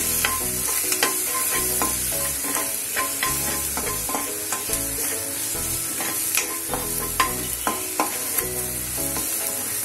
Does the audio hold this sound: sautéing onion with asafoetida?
yes